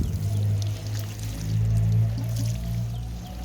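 Liquid is poured from a container over the base of old eggplant plants in a garden, a continuous nearby gurgling splash that swells and eases over a few seconds.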